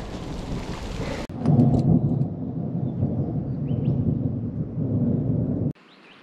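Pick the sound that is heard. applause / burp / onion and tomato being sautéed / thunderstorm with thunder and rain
thunderstorm with thunder and rain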